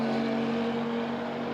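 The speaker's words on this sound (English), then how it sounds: "then you've got the rumbling and roaring AMG Mercedes with a gigantic V8 engine under the bonnet" An AMG Mercedes race car with a large V8 drones steadily at the Hungaroring during an endurance touring car race, a constant loud engine hum that holds evenly throughout with no clear pass-by.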